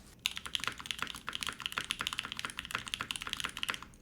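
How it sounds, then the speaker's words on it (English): Fast, steady typing on a mechanical keyboard with hot-swap PCB and aluminum plate, close up, with dense clacky keystrokes and no voices. "These are using the Brickle switches, the Hot Swap PCB."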